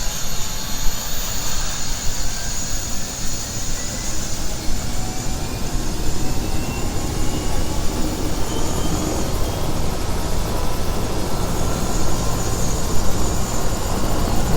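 A Eurocopter AS350 B3e helicopter running through start-up, its turbine whine holding steady over a loud, continuous rotor and engine roar with rising tonal sweeps as the blades spin up, close and uninterrupted.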